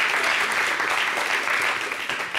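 A studio audience at a French TV show bursts into sustained, even applause, a dense wash of many hands clapping close by for a couple of seconds, with no voices over it.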